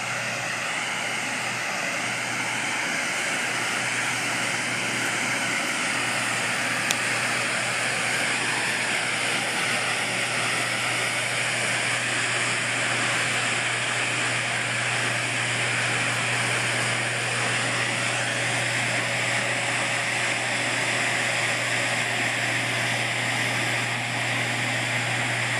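Inside the McClure hydroelectric powerhouse on the Dead River in Marquette, Michigan, a pair of horizontal General Electric generators driven by Francis turbines produce a loud, unbroken roar with a steady low hum underneath, constant throughout.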